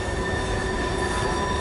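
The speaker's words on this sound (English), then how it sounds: "I hear the train a-coming." A train rolls past steadily with sustained wheel squeal and rumble near a car show at Mammoth Spring, Missouri, heard alone with no talk.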